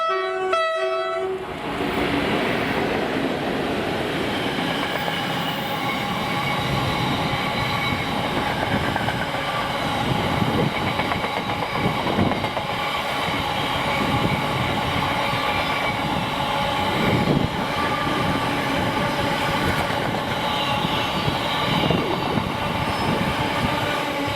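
Freight train 4S54 hauled by a pair of Class 90 electric locomotives, 90044 and 90048, on a Crewe to Coatbridge run in Scotland; a horn blast opens, then a loud, continuous rumble of passing wagons with rhythmic wheel clatter and faint squeal.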